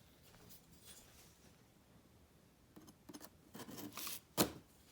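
Scissors snip and tear through the cardboard packaging of a Black+Decker jigsaw, a few quiet cuts building to sharper, louder snips at the end, close up with no talking.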